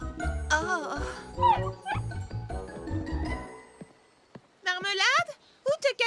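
A dog in a cartoon yips, barks and whimpers in quick bursts, mixed with speech and music early on, then a few sharp, close yelps near the end.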